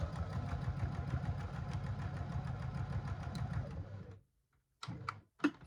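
A sewing machine runs steadily while stitching the edges of a fabric bookmark, a continuous mechanical whir for about four seconds, then it stops, followed by a few short clicks and handling noises.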